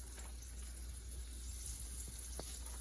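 Chicken livers frying in a pan of oil in a home kitchen, giving a soft, steady sizzle with faint crackles and a few sharper pops near the end, quiet and without talk.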